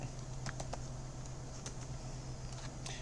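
Soft, sparse keystrokes on a computer keyboard tap out a few quick presses over a steady low hum, faint and close, with no talking.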